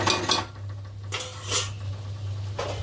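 A utensil scrapes and clinks against a pan while spiced oil and salted pasta sauce sauté: a few close, bright scraping bursts spaced apart over a steady low hum.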